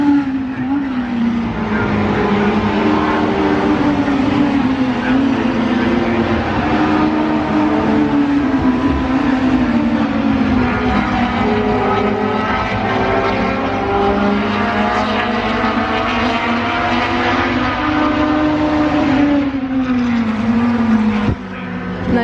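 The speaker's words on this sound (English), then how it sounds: "I might have to stop talking because there's some cars coming past." Historic saloon racing cars roar past at Oulton Park Gold Cup, a loud, sustained engine drone rising and falling in pitch as several cars pass close by one after another, drowning out everything else.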